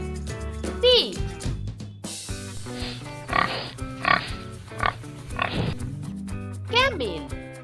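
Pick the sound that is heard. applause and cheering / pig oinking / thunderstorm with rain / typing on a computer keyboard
pig oinking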